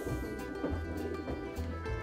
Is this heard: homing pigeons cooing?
yes